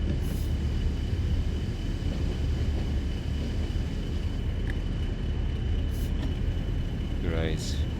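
Class 87 electric locomotive from Train Sim World 5, heard as a steady, loud broadband rumble with a constant hum, running on at night on the Kingmoor route, with a brief higher warble near the end.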